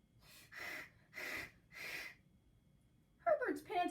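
A voice imitates a mouth-breathing monster named Herbert panting: three slow, heavy, breathy pants, fairly close and loud, followed by a short gasping snort.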